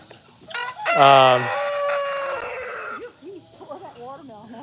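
A rooster at an animal sanctuary lets out a loud, close crow, followed by a few softer clucks and murmuring fowl sounds trailing off afterward.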